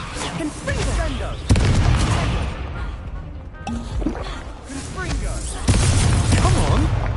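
Confringo explosive spell blasts in Hogwarts Legacy, with several sharp booming bursts in a busy spell fight, loud and close, over layered combat noise and voices.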